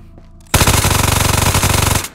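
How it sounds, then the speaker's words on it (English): A Mac 10 fires in the shooter game Ghosts of Tabor, one loud sustained automatic burst of rapid rounds lasting about a second and a half, close and alone after a quiet lead-in. "What did you just shoot? It's a Mac 10 I found in a box."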